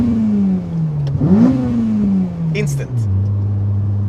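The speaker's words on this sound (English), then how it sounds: "you just hit the gas and the car goes" A naturally aspirated K24 engine in an Accord Type S idles, then revs up sharply in a quick throttle blip and settles back to idle, with a short spoken word over it.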